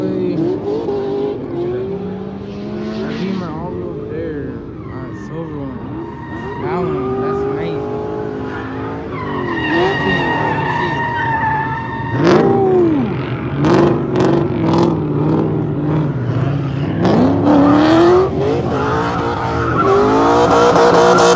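BMW drifting at a Las Vegas drift event, engine revving hard with long squealing, skidding tires and passing cars, loud and continuous, with people talking over it.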